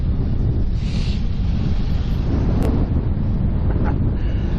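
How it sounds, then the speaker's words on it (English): Strong wind buffets the microphone during a bike ride in West Sussex, a loud, steady low roar that continues throughout without a break. "That wind, bloody hell."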